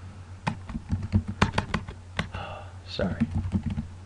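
Typing Visual Basic code on a computer keyboard: bursts of quick, close key clicks in uneven clusters, with brief pauses and a short spoken remark partway through.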